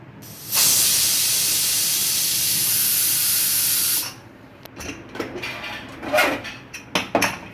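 A pressure cooker cooking papdi dal lets out a loud, continuous steam hiss for about three and a half seconds, then stops abruptly, followed by scattered clinks and clatter of pots.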